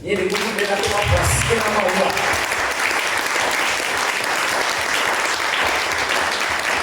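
A church congregation breaks into loud, sustained applause that fills the room evenly from start to finish, with some voices mixed in at the beginning.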